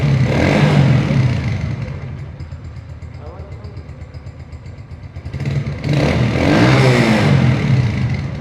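A Zonsen Super Star Cub 110cc clutchless motorcycle engine runs at idle and is revved a couple of times, with the exhaust note swelling and falling close by while people talk over it.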